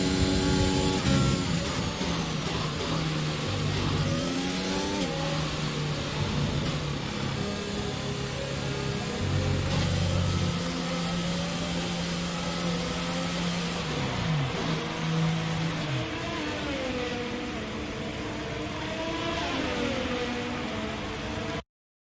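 An F1 2021 racing car in a video game, its engine suffering a severe issue, drones as a loud, continuous high-revving roar with shifting pitch for the full stretch, no voices over it.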